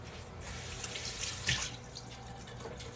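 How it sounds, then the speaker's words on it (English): Water runs steadily from a kitchen faucet as tomatoes are rinsed beneath it, a close, continuous splashing hiss with a brief louder splash midway and no voices. "another little board where I need to rinse my tomatoes off."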